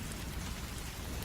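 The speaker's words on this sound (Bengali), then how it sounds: "পায়ের নিচে কাদা, মাথার ওপর অঝোর বৃষ্টি।" Heavy rain pouring down in a dense, constant hiss with low rumble, steady and loud for a brief moment.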